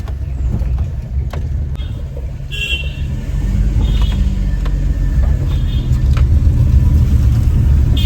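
A car being driven on a road near Rajapuram, with a steady low engine and road rumble close by and a faint horn toot and passing traffic mixed in.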